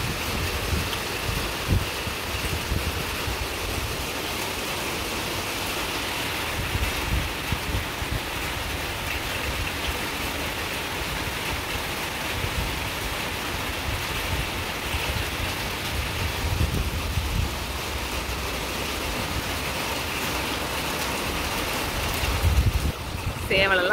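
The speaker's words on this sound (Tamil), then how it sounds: "மழையும் வந்துடுச்சு" Steady rain pours down with a dense hiss, mixed with gusty wind rumble against the microphone throughout.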